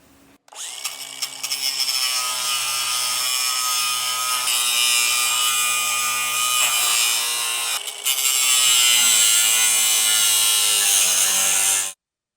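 A grinding wheel cuts through a weld on a steel boat trailer frame, a loud, sustained high-pitched screech that starts abruptly, dips briefly midway, then resumes and cuts off sharply.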